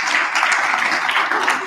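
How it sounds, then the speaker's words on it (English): A crowd at a Dr Claud Anderson unity talk claps for a brief, steady round of applause, dense and fairly loud throughout. "Give Easy Show a big round of applause."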